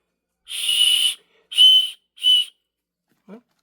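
A plastic whistle built into a Mossy Oak knife sheath blown in three shrill, piercing blasts, the first long and the next two shorter, followed by a faint brief sound, all very loud and close in a quiet room.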